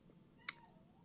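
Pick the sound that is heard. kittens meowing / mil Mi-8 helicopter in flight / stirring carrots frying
kittens meowing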